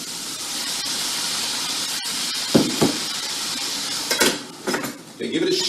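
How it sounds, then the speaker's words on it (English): Water poured into a hot pan of food sets off a loud, hissing steam sizzle that runs throughout, broken by a few clattering knocks of utensils and pan near the end. "I'm going to add water to it."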